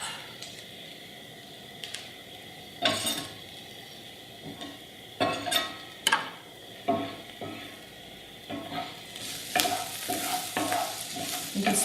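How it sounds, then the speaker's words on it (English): Garlic sautés in a pan for penne pasta: a soft continuous sizzle broken by several sharp utensil scrapes and clinks from quick stirring, close and fairly loud. "we're just going to add it and let it saute there for a few minutes, or a few seconds actually"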